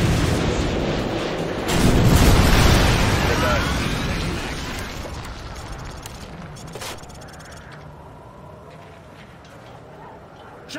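AGM missile strikes in Call of Duty: Modern Warfare 2, a heavy explosion swelling about two seconds in and rolling off into a long fading rumble, with sharp crackles and voices talking.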